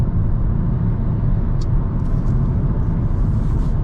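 Steady low road rumble from a car passing a right-hand-drive manual sedan on the road, a continuous broadband drone with no distinct pass-by peak, heard from inside the vehicle with no talking.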